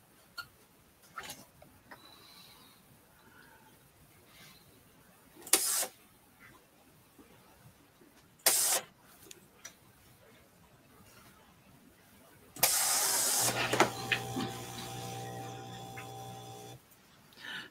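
A sewing machine top stitches a large project bag seam closed, running in a steady mechanical whir from about 13 seconds to near the end, after several brief taps and handling noises in a quiet room.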